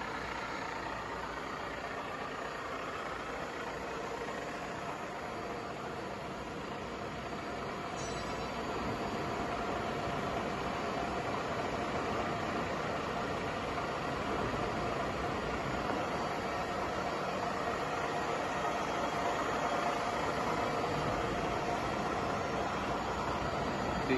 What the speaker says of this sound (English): working on spindle at its maximum speed, that is 2000 RPM